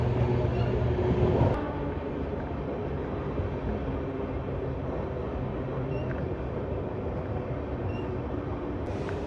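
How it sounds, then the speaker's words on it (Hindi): The Shri Ganganagar–Delhi Intercity train rolls into Jakhal Junction with a broad, steady rumble and rattle of rail cars that continues without a break, heard from on board. "इसका मतलब ये है कि जाखल जंक्शन पहुंचने वाली अपनी ट्रेन"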